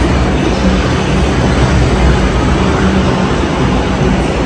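Kolkata metro train at Tollygunge station, a loud, continuous low rumble of the rolling train with steady broadband noise throughout, no speech.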